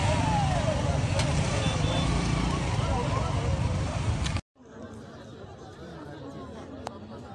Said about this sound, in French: Vous voyez vous-même, il y a plein de monde, beaucoup de véhicules.